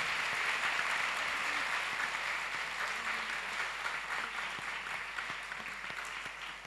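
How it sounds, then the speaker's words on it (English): Steady, fairly faint applause from a school audience at a 2015 production of The Hunchback of Notre Dame at The Bishop's School, with many hands clapping continuously and evenly throughout. "let us give them a big round of applause"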